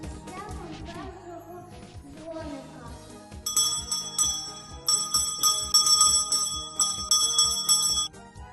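A school bell rings at the first-bell ceremony opening the school year on 1 September 2023, a bright, rapid jingling that lasts several seconds over crowd noise and voices after a stretch of music and talk.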